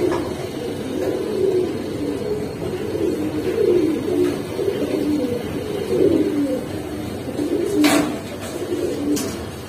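Pigeons, Giribaz and Pangkhi breeds, coo steadily at close range, a low repeated warbling that carries on through the whole stretch with a few faint clicks near the end.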